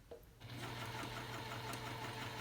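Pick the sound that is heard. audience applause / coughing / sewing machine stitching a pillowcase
sewing machine stitching a pillowcase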